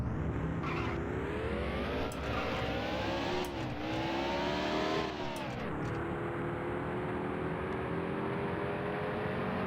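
Race car in Dirt to Daytona, a racing video game: a continuous whining engine climbs in pitch through repeated upshifts, loud and steady, with brief dips at each gear change.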